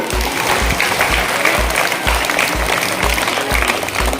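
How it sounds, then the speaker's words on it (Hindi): Loud, steady applause from a school crowd at a prize-giving ceremony in a middle school in Katihar, a dense continuous patter of clapping with rhythmic beats underneath. "जोरदार ताली।"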